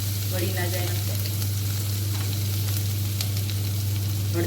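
Garlic chili paste and turmeric sizzle in a pan over a low gas flame, a loud, continuous frying crackle with occasional stirring scrapes over a steady low hum.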